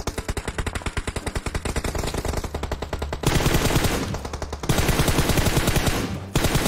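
Rapid automatic gunfire rattles in long bursts during a battle royale video game, loud and close, with brief pauses and overlapping volleys.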